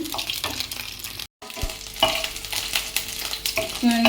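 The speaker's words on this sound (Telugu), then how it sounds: "కర్రీస్లో కరివేపాకు వేసుకొని ఫ్రై చేయాలి" Curry leaves frying in hot oil for a chicken curry, a close, continuous sizzle with stirring scrapes and clinks, broken by a short silent gap, then louder crackling bursts.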